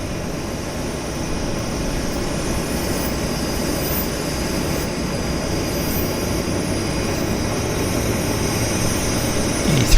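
An Airbus A330 airliner arriving at Vancouver airport, a steady distant roar of jet engines holding at an even level throughout, with no talk.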